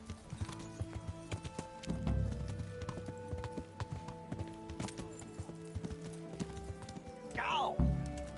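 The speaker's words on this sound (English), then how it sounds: "Learn how to ride a horse" Horse hooves clip-clop steadily on the ground in the medieval video game Kingdom Come: Deliverance, a close, rhythmic trot under a voice, ending with a brief neigh.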